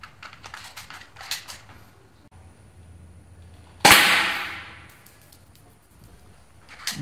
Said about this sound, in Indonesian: Ya, kita mulai dengan percobaan tembakan pertama.